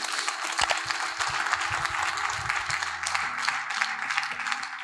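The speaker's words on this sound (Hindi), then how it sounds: "मैं चाहता हूं एक जोरदार तालियां हमारे सारे किसानों के लिए होनी चाहिए" An indoor audience applauds farmers at an agriculture awareness program, with dense, steady clapping from many hands throughout and a voice speaking briefly over it.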